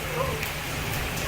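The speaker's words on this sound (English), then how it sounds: "Really hard rain." Hard rain pours down steadily outdoors in Orlando, a dense even roar of falling water with wind and no distinct pauses.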